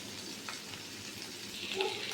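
Soybean chunks and potato frying in a pan give a faint, steady sizzle, with a soft stirring scrape near the end, close but quiet and without voices.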